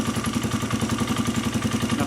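A Honda CR230F motorcycle engine fitted with a full CSC TT250 exhaust system idles close by in a steady, fast, even putter with a throaty low tone and light mechanical clatter, and no talking over it.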